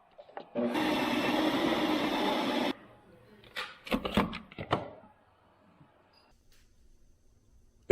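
A Ninja Creami machine whirs steadily as it mixes Reese's Mini Cups into a peanut butter light ice cream, a loud dense drone running for about two seconds before stopping, followed by a few clattering knocks and handling sounds.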